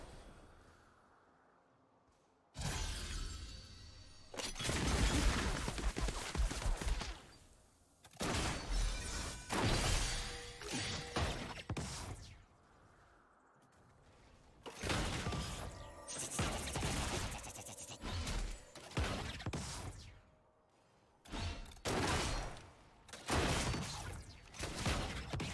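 Gunfire and shattering impacts from Jinx in a League of Legends co-op match against AI, coming in loud repeated bursts separated by short quieter gaps.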